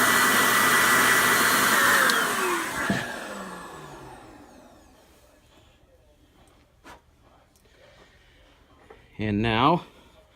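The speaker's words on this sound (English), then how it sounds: "Now we dry off the buttons real quick." A hair dryer blows steadily and loudly over freshly cleaned buttons for about three seconds, then shuts off and its whir fades away, leaving near-quiet with a few faint knocks and a short voice near the end.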